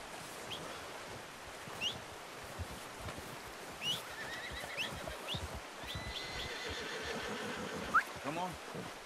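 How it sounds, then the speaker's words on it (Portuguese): Horse neighing and whinnying in Red Dead Redemption 2, with faint hoof clops and rustling in an outdoor game scene, several short whinnies spread across the stretch beneath a voice chatting. "Olha o cavalo."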